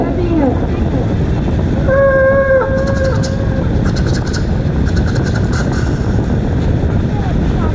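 A child at a school mimicry event imitates a passing train, with a drawn-out whistle-like tone in the middle over steady background noise.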